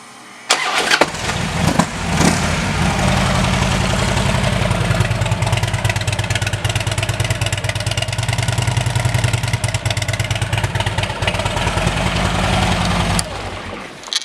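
A 2009 Harley-Davidson Electra Glide Standard with aftermarket Rinehart exhaust pipes cranks, fires up and settles into a loud, steady, throbbing idle close by.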